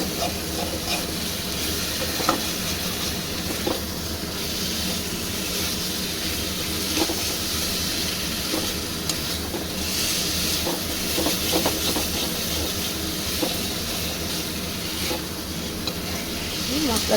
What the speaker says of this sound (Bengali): খুব ভালো করে নেড়ে ছেড়ে কষিয়ে নেব